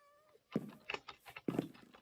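A cat in Minecraft meows twice, close and distinct, in short plaintive calls over a quiet game background.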